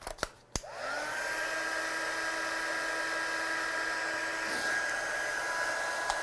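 A heat dryer blows a steady, loud whirring hiss across a stamped card to dry watercolour ink, starting after a few brief clicks and running continuously close to the microphone.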